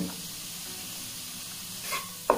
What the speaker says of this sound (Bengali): আবারও খুব ভালোভাবে সবকিছু নেড়ে চেড়ে নিচ্ছি।